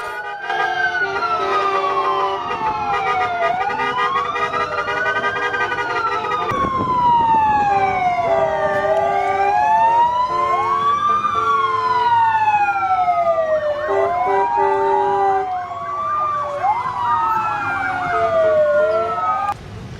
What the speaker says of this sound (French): Elles ont joué des sirènes jusqu'au parc du Jard